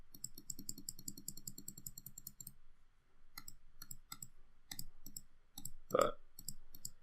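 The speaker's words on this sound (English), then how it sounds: "I'm sorry for the clicking noises." Computer mouse clicks and keyboard taps at a desk while a game is being built: a quick burst of rapid clicks, a short pause, then a run of sharp, separate clicks at uneven intervals, faint and close.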